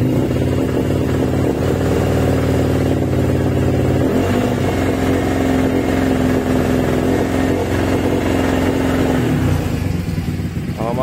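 An engine runs loudly and close with a slight misfire during an oxygen sensor check, a continuous uneven drone that shifts slightly partway through, with no talking.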